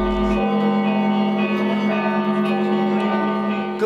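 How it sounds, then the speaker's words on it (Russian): Church bells ring at a monastery during a festival, a steady, sustained peal of overlapping tones filling the whole stretch, fairly loud and with no speech. "Колокольный звон ознаменовал начало торжественного дня."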